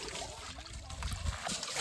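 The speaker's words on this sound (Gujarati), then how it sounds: "જો અહીંયા પાણી આવે છે એકદમ ક્લીન" Water flows into a village channel in rural Gujarat, clearing after running muddy. It makes a soft, close trickle and gurgle with small splashes, fairly quiet and uneven, and no voices.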